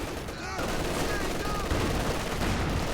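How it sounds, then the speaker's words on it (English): An artillery barrage in the Company of Heroes 2 strategy game brings dense, continuous rumbling explosions and crackling gunfire that fill the whole span at steady loudness. "Oh, in comes a barrage."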